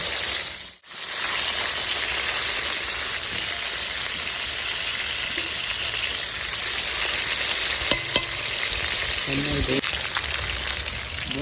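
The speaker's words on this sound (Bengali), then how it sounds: "আলুরা মাছ ভাজা হয়ে গেছে নামিয়ে দিচ্ছি" Loud, steady sizzling of fish frying in hot oil fills the scene, with a few scraping and clinking sounds near the end.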